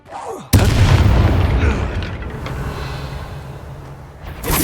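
A Confringo blasting spell goes off in Hogwarts Legacy, a sudden loud boom with a broad low rumble that lingers for several seconds and fades slowly, followed by another sharp burst at the end.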